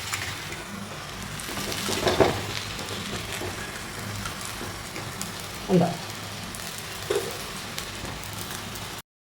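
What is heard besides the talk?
bitter gourd frying in oil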